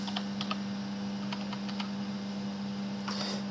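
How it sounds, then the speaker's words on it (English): Fingers typing a password on a computer keyboard, a few quick soft key clicks in short bursts over a constant electrical hum, close and quiet. "Put my password in."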